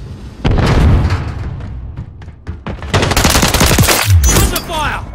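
Dense automatic gunfire and bursts from a Call of Duty: Modern Warfare 3 team deathmatch, loud and close, with heavy bangs and explosions mixed in and a brief pause midway before the firing resumes.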